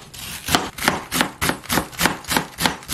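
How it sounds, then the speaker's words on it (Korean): A knife slices a small 100 g can of Spam-like ham into thin strips on a board, giving about nine regular, evenly spaced cuts, each a short scraping thud, close and clear with no talking. "요거를 얇게 채를 썰어 주겠습니다"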